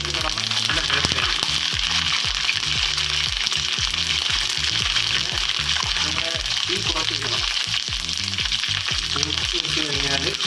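Curry leaves with dried red chillies crackle and sizzle loudly in hot oil for puliyodara, a dense, continuous frying hiss broken by sharp pops and stirring scrapes, close up with no talking.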